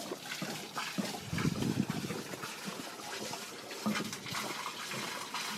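Water runs steadily from a hose at a parked camper van, a soft continuous trickle and splash heard from close by.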